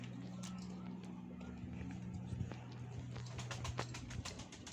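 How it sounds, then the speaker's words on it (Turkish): Pigeons or doves kept in a backyard coop at a house in a city neighborhood, cooing softly in low repeated calls close by, with faint rustling and a quiet murmur of background noise. "Burada kuşlar var."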